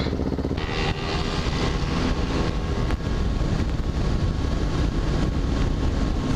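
Loud, continuous engine roar of motorcycles doing wheelies at an NJ Bike Life street ride, a steady dense drone with a brief dip near the one-second mark and a sharp burst around three seconds, no talk.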